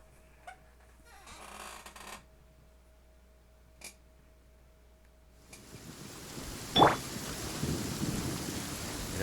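Rain and thunder in the Genshin Impact video game: a thunder rumble and scattered cracks early on, then steady loud rainfall from about halfway with a sharp thunderclap near the end.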